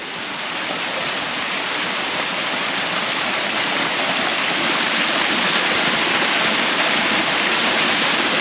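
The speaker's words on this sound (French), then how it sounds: "Et là il y a une petite cascade." A small waterfall in Nepal roars close by as a steady, loud wash of rushing water that continues without a break.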